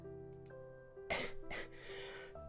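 A person who is ill coughs twice in quick succession, muffled and close, with a steady low hum behind.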